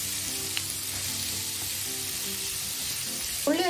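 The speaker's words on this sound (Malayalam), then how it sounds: "നമ്മൾ അതിന്റെ കൂട്ടത്തിൽ തന്നെ ഉള്ളിയുടെ കൂടെ വഴറ്റിയെടുക്കുവാണ്." Sliced onions sautéing in a pan for a pearl spot fish dish, a steady soft sizzle and crackle close up, with a brief stir or clink at the end.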